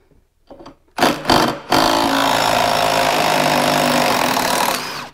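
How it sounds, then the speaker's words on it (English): A powerful impact gun with a 15 millimeter socket rattles loose a stiff, Loctite-coated drive belt bolt on a Polaris Axys/Matryx snowmobile, starting with a few short hammering bursts, then running in one long continuous loud whir up close. "you gotta be careful using a gun like this, because these have a lot of torque"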